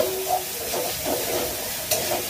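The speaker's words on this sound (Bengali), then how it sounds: "আদা, কাঁচা লঙ্কা ভাজতে শুরু করে দিয়েছি" Ginger and green chillies frying in oil, a dense, steady hiss and sizzle with soft stirring swells, close and unbroken.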